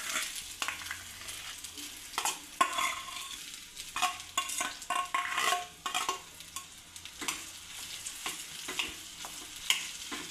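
Finely chopped potatoes are stirred and sautéed in a pan, with a continuous close sizzle broken by repeated scraping strokes of the spoon against the pan and a few louder clanks, with no speech.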